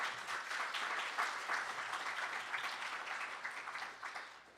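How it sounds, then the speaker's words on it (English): Audience applauding downtown ambassadors at a downtown awards annual meeting, a steady wash of clapping from a mid-sized crowd, moderately distant and even throughout with no talk. "Give them a round of applause."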